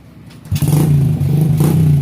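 A scrap-built BMX motorbike assembled from old iron and a salvaged engine catches at 0.5 s on the first kick and settles into a loud, steady idle close by, with no voices.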